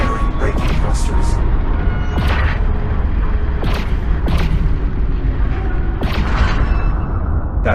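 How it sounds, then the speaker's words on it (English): Spacecraft braking thrusters in the game Lone Echo 2 fire in a series of deep booming bursts with mechanical rumble and clanks, repeated several times over a low continuous drone. "Firing braking thrusters"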